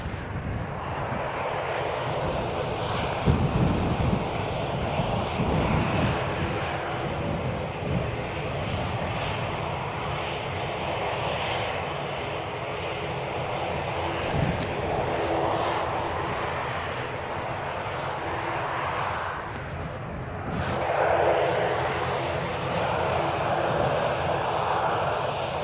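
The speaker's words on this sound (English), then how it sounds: "you've got your EasyJet just there" EasyJet airliner jet engines at Birmingham Airport, a broad, steady roar heard from some distance that lasts the whole stretch with slight swells, without speech.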